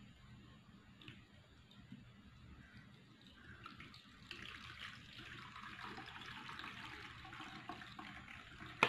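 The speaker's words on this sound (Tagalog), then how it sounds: "susubukan natin lagyan ng tubig kung ano siya" Water is poured in to test a repaired appliance after a short circuit underneath was fixed, a soft steady trickle that swells into a fuller hissing stream about halfway through, with low background hum.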